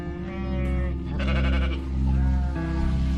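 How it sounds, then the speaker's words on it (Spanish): Part of a flock of over 600 sheep bleats in a stable, several loud overlapping nasal cries close by, layered over a constant low rumbling background. "más de 600 ovejas que, a estas alturas del año, estaban pidiendo a gritos las manos de un buen peluquero"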